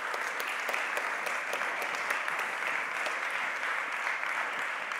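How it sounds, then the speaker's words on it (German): Sustained audience applause for the panelists after a German-language discussion panel on digital and analog infrastructure for university teaching, a steady dense patter of many hands clapping at moderate level, with no talk over it. "großen Applaus nochmal an die Diskutantinnen"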